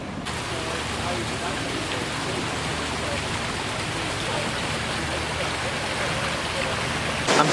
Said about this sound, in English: I'm standing on a bridge over the Bannock River